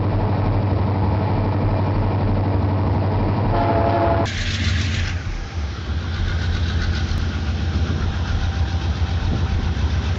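A train climbing the mountains from Lima rumbles along the rails with a steady loud engine drone and rhythmic clatter, and a brief horn-like tone rises midway.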